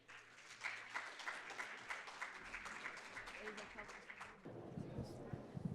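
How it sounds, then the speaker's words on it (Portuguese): An audience at a Santander investment panel gives the moderator a few seconds of moderate, fairly distant applause, and then a voice starts speaking as it fades. "Uma salva de palmas, por favor."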